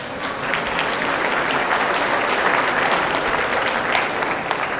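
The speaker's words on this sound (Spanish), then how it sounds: "Démosle un aplauso a la doctora" An audience applauds a doctor at a talk event, dense sustained clapping from many hands at an even level for several seconds.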